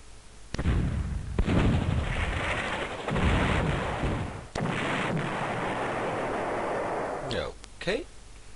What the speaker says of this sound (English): Now attack with this tank.